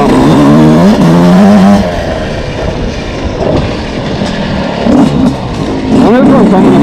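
A Yamaha YZ125X dirt bike picking its way along rocky trails, a loud close two-stroke whine swelling early then dropping to a rougher lower drone, with short rev bursts toward the end.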